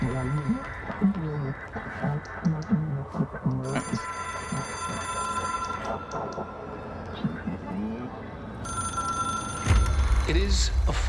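A telephone rings in the Control video game, bright trilling rings repeating through the scene over speech and low game rumble, with a heavy low boom near the end.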